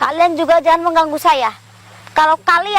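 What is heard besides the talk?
None of the usual background noises is heard.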